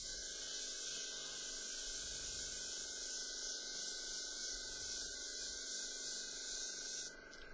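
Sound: airbrush spraying overspray onto textured artwork

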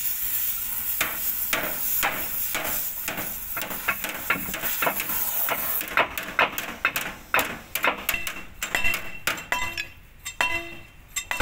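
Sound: grinding off corroded roller bolts

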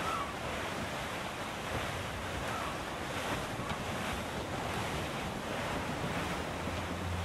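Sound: strong wind and ocean waves aboard a schooner, from the video game Assassin's Creed IV Black Flag

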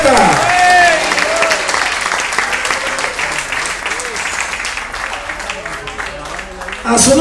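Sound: church congregation applause

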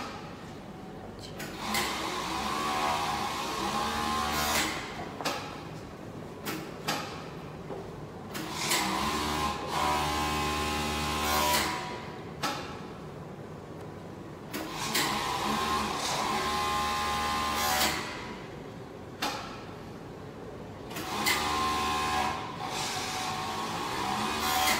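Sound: C5 overlock sewing machine running over fabric

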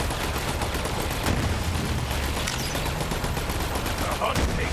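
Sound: turret gunfire in video game Borderlands

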